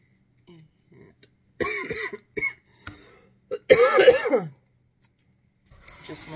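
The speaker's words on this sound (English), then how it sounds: "Just when I think my coughing is done." A woman with a winter cold coughs and clears her throat at close range in a quiet room, a few short hacks followed by a longer harsh, raspy coughing fit, then silence.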